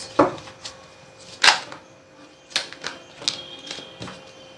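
Tarot cards drop and are gathered up and shuffled on a surface, making a series of sharp, close clacks and soft slaps at irregular intervals with quiet pauses between.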